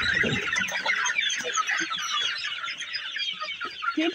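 Farm hens cluck busily and continuously nearby, a dense chorus of overlapping calls with occasional louder squawks, and no voices.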